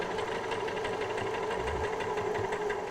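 A sewing machine runs steadily, stitching piping down a seam toward the corner with an even, continuous mechanical whir and fast needle patter, close and unbroken throughout.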